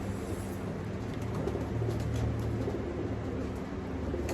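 A pet bird coos steadily against a dense, noisy background, the soft low calls repeating close by throughout with no talk.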